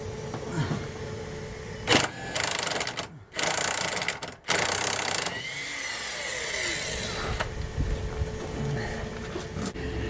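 A hand ratchet with a 13/16 socket turns seat bolts out of a Plymouth Duster, rapid clicking bursts separated by short pauses, close and loud, followed by a quieter stretch of mechanical rattle, no talking.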